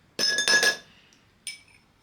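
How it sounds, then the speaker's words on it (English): Ice cubes dropped into a glass while making kiwi and cucumber juice, giving a quick cluster of bright, close clinks followed by a single softer clink a moment later. "So ice cubes first,"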